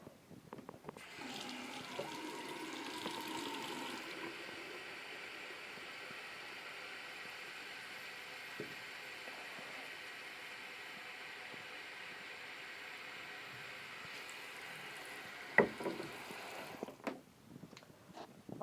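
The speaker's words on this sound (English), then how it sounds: "I'm just going to fill up the rest of the jar with water" Water runs steadily from a tap into a jar for a long stretch, a constant hissing rush that cuts off near the end with a few clinks.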